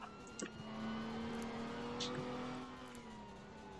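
A GTR car engine in the Roblox game Liberty County hums quietly and steadily, with a faint revving tone that climbs slightly, along with a few soft clicks and brief voice fragments.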